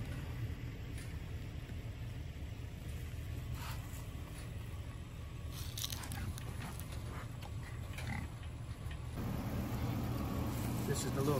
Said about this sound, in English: Got some good eating pigs right here.